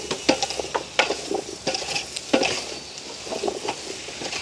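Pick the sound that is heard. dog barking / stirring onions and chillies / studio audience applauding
stirring onions and chillies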